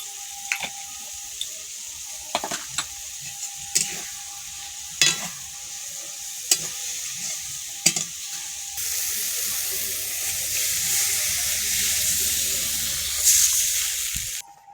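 Turmeric and chili powder fry in a pan for a Bengali shukto of spinach, brinjal and small fish, giving a steady sizzle broken by scattered stirring scrapes; the hiss swells louder and denser over the second half, with no talk.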